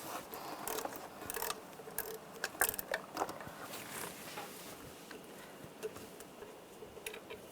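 A ratchet with a 12mm socket loosens intake bolts on a 1996-2002 Toyota 4Runner, giving quiet irregular clicking and metallic ticks in close, uneven bursts.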